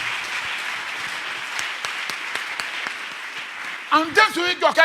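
A church congregation claps loudly and continuously, a thick roar of hands with a few sharper claps standing out, before a voice breaks in over the fading applause near the end.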